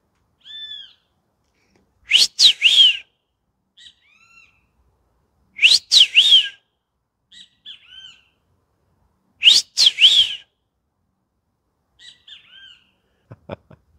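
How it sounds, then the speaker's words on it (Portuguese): A small bird sings in three bursts of bright, rapid chirping, each preceded by a soft whistled note, with short calls in between, clear and close against a quiet background. "O passarinho."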